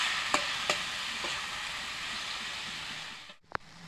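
Salted taro greens stir in a hot pan under a loud, dense, steady sizzle, with a few sharp scrapes of the spoon and a brief dip near the end followed by a clatter.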